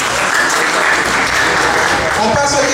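Loud applause from an audience at a Haitian quiz competition final in Paris, a dense, continuous wash of clapping with voices mixed in underneath.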